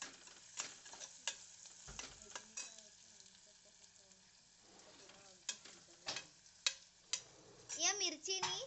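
Chillies fry and are stirred into a pulao seasoned with Maggi masala, with a soft sizzle and intermittent utensil clinks and scrapes against the pot, quiet and close.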